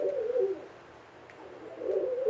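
A pet dove or pigeon gives two soft, close cooing calls for attention, one at the start and another near the end, with a quiet pause between them and nobody speaking.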